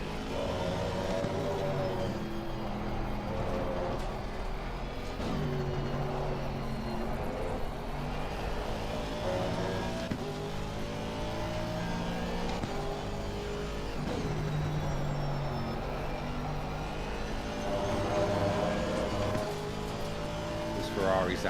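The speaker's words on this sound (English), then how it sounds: "This Ferrari sound. The whine." Ferrari GT race car in Assetto Corsa Competizione at the Hungaroring, its engine droning with a steady high whine and shifting harmonics throughout, loud and continuous with a voice talking over it.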